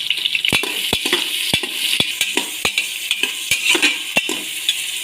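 Onion, curry leaves and green chilli frying for mushroom biryani, with a spoon stirring and scraping the pan in quick, rhythmic knocks over a soft sizzle, close and fairly loud, with no talking.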